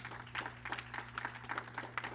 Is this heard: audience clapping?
yes